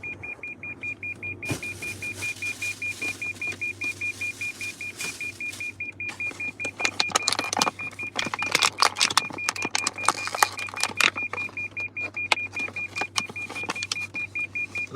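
A steady, high-pitched car beep repeats continuously over a low hum, with rattling and clicking noises building up partway through.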